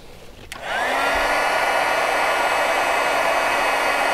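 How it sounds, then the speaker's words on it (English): A handheld heat tool switches on with a quick click and rises into a steady, loud blowing whir, used to heat-set paint colors on a gourd. It runs alone and unchanging once at full speed. "I want to go ahead and heat set them."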